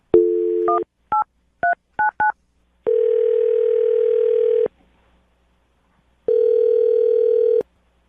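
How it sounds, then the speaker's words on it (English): Telephone tones sound alone: a short beep, a rapid series of dialing blips, then two long, steady buzzing rings with a pause between. "I'm going to call him right now, see if we can get him on the phone"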